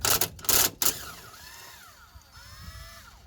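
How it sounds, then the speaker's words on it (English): Removing a 14 mm brake pipe and ABS clamp bolt on a Toyota Yaris (Vitz) front suspension: a few sharp, loud clicking bursts from a ratchet or tool up close, then quieter metallic scraping and faint squeaking as the bolt turns out. "Just gonna remove the brake pipe clamp bolt. It's a 14 mil bolt."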